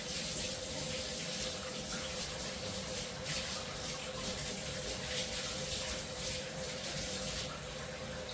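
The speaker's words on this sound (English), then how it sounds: "wash my hands." Tap water runs steadily into a sink for hand washing while baking rēwena bread, a continuous broadband hiss and splash that holds at an even level throughout with no talking.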